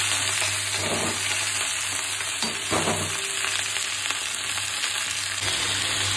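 Dal ingredients with salt and turmeric fry in a little oil under a partly covered pan, a close, continuous sizzle broken by a few stirring scrapes and knocks, with no voices.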